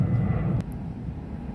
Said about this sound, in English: the plane the plane goes right over